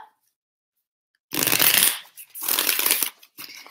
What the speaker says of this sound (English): Hold on, guys. One more shuffle.